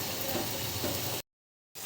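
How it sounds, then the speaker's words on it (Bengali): Chopped papaya sautéing in a hot pan for a fish curry, a steady loud sizzle with stirring scrapes that cuts out abruptly, then resumes briefly after a short silence. "দেখেন আমার পেঁপে পুরোপুরি কষে গেছে।"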